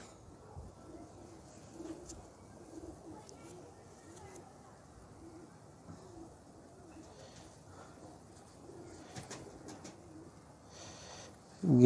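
Flying pigeons kept by a hobbyist coo softly in a repeating rhythmic series at moderate distance, with faint background noise and a few small clicks throughout.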